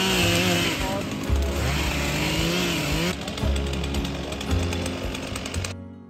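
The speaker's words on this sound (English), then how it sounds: "clearing a path with multiple chainsaws around the sedated rhino" Several chainsaws clearing brush around a sedated rhino on a South African safari roar at once, engines revving up and down in a loud, continuous drone close by.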